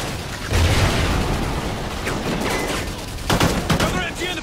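Heavy machine gun fire in Call of Duty: Ghosts, a dense, sustained fusillade of rapid automatic bursts with booming impacts, loud and close throughout, rising into a harder flurry near the end.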